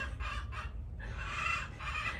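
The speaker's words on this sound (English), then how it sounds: "When the dogs are quiet and the macaws are quiet, the chickens gotta raise Cain, right?" Chickens cackle loudly nearby while a hen lays an egg, the calls coming in repeated bursts.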